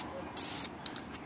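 An aerosol can sprays a very light coat of paint onto a masked-off engine valve cover in one short hissing burst, followed by two quick puffs.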